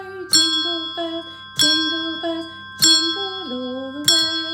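Hand bells ring out Jingle Bells as a melody of bright, sustained metallic tones, each new strike landing roughly every 1.2 seconds over a steady low drone, with long ringing decays between the notes.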